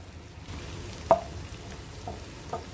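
Chopped onions frying in a pan for coconut rice, a faint, steady sizzle with one soft clink of utensil in the middle and no talk.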